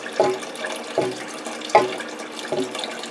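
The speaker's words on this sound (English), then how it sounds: "Most of the water's coming out of that tank." Water drains out of an old cistern pump tank in gurgling, glugging surges roughly every three-quarters of a second, close and fairly loud with a hollow, sloshing quality.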